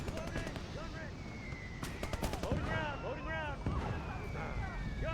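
Artillery shelling with white phosphorus in a D-Day 1944 war game, repeated sharp blasts and crackling bursts with whistling rounds, loud and dense amid battle noise, with a voice talking over it.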